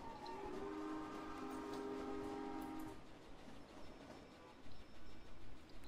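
A train runs in the Roblox Jailbreak video game: a steady, sustained horn-like tone over continuous rolling rumble for the first few seconds, then a rougher, quieter rumble with no voices.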